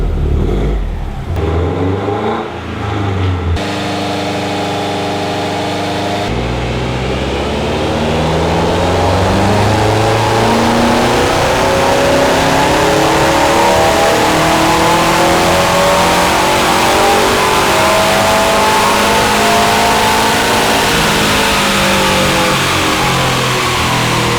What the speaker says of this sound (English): the car's going on, get a power run done, make sure that all is well after changing the exhaust at the weekend